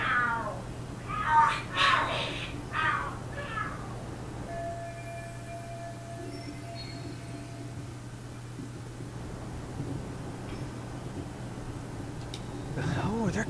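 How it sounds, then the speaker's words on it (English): Cats fighting and screaming inside the video game Lost Judgment, a few yowling meows rising over a steady low hum, followed by a long stretch of quieter ambient noise. "The hell? Are there cats fighting?"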